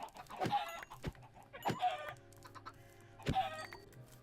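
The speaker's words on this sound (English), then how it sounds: "Oh my god, turkeys." Poultry calls from turkeys in a farming video game: a few clucking, gobble-like bursts spaced a second or more apart over a low steady background hum.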